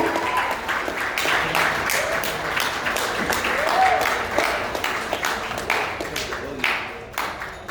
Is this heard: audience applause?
yes